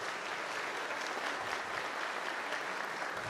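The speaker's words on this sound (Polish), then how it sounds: "Bardzo proszę o aplauz." Audience applause fills the hall at a village gala celebrating the municipality's days, steady dense clapping from a sizable crowd throughout.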